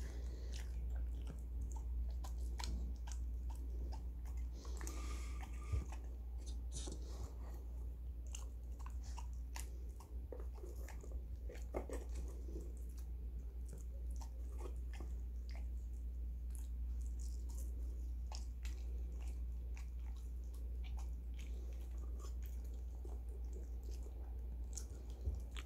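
Schnauzer dogs, including an elderly one, eat a late-night snack with steady close biting and chewing crunches over a constant low hum, no talk.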